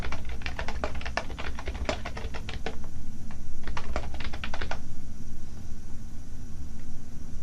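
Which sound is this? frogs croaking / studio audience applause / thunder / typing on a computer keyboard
typing on a computer keyboard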